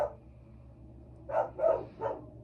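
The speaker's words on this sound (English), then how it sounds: "Uh-oh, it's the damn dogs again." Dogs bark in three quick, medium-loud barks, somewhat distant, following a faint earlier yelp, over a low steady background hum.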